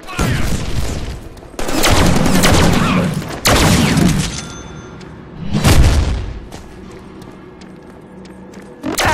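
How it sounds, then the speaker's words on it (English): Gunfire in the Deadpool video game on Xbox 360, set in Magneto's prison: loud, heavy bursts of shots and booms in several separate volleys, with quieter gaps between them. "Give me some covering fire!"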